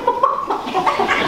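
A human voice imitates a chicken, giving a quick series of clucking, warbling calls, loud and close.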